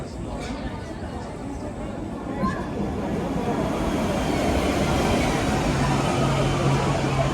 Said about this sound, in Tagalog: Parating na yung train.